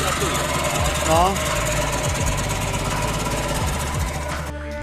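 A failing Trabant 601 two-stroke engine knocking hard and running rough, a loud continuous mechanical clatter that cuts out near the end, with people talking over it.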